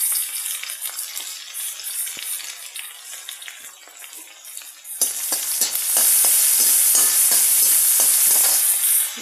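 Garlic sizzles and fries in a pan for curd rice, a soft crackle that grows much louder and denser halfway through, with scattered stirring scrapes and no speech.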